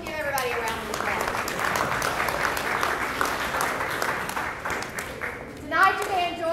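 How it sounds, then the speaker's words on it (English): Audience applause at a church youth mystery dinner theater, a steady wash of clapping from a room full of people that tapers off, with a few voices and a child's speech rising near the end. "So just let's give everybody a round of applause."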